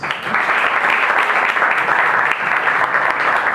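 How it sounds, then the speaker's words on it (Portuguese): Steady, dense applause from a live audience at a Catholic talk on vices, a continuous wash of many hands clapping at even loudness, with no voices over it. "Palmas"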